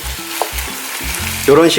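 Spicy stir-fried squid sizzles in a hot pan, loud and close, with rhythmic stirring scrapes and a brighter burst of crackling near the end.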